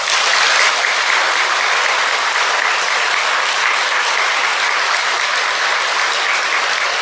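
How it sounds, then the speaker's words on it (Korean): Audience at a Buddhist temple gathering breaks into steady, dense applause, loud and continuous throughout with no talking over it. "큰 박수 한번 부탁드립니다"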